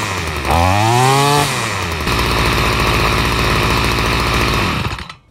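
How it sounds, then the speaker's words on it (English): A string trimmer engine with a clean spark arrestor fires up with a rising rev, then settles into a steady, loud two-stroke run before shutting off at the end. "You see that with a clean spark arrestor, this trimmer fired right up, idled nice, ran perfectly"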